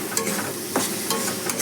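Spice paste being stirred and fried in a wok, a steady close sizzle with brief scraping strokes of the spatula, loud and continuous, with no talking.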